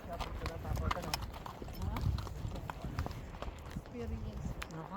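Horse hooves clip-clop steadily and close by during a horseback ride in Kazakhstan, with people talking over the rhythmic hoofbeats throughout.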